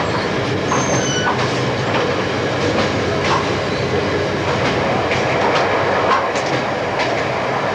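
Riding aboard a train on the tracks, heard from inside as a continuous loud rolling rumble with faint clicks from the rails and a brief high squeal near the start.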